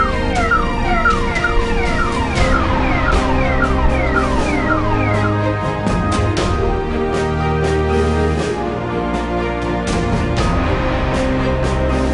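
A loud ambulance siren wails continuously with rapidly rising and falling tones over steady road and engine noise, close by.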